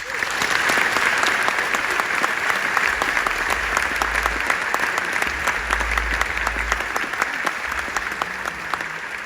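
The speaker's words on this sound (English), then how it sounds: "let's give a big round of applause for the 2022 Courage Award recipient, Jacobi Sebock" A large audience applauds loudly and steadily at an award ceremony honoring a courage award recipient, the dense clapping sustained throughout without talk.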